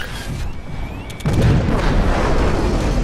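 A Titan exploding in the Titanfall beta on Xbox One: a sudden heavy boom about a second in, following thin electronic tones, then a sustained loud rumbling roar.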